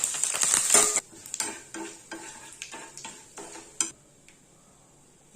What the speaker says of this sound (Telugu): పచ్చిశనగపప్పు జీలకర్ర వేసుకొని ఫస్ట్ కొద్దిగా వేయించుదాం ఇవి వేగుతున్నాయి కదా